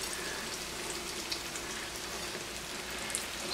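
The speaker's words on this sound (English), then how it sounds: "we're just going to shallow fry these as opposed to deep frying them" A constant patter of sizzling comes from sweet potato patties shallow frying in a pan of vegetable oil, a faint, even crackle like light rain with an occasional louder pop and no voices.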